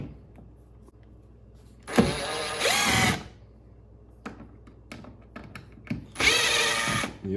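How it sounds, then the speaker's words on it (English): A power drill removes screws from an old stern light base on a boat, whirring in two loud bursts about a second long with quieter clicks and handling noise between them. "We're going to take out the screws."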